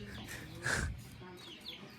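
A single quiet cluck from a chick rises briefly over a faint, steady background at a village home in Assam.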